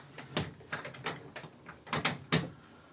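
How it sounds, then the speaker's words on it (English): Mirrored sliding closet doors in a 2021 Rockwood Ultra Lite 2442BS small 5th wheel RV rolling along their tracks, close rumbling slides with a few knocks and rattles as the doors move back and forth. "Obviously both doors will slide."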